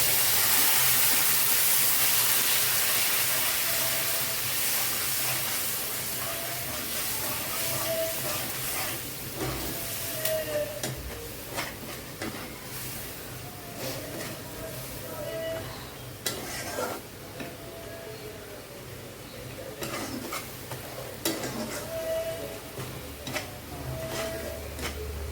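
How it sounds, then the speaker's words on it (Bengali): Masala of tomato, green chilli, red chilli powder, coriander and cumin powder frying in a pan, a soft steady sizzle with intermittent scraping stirs and clinks of the spatula against the pan, fairly quiet and close. "এই মশলাটা আমি এখন কষিয়ে নিচ্ছি।"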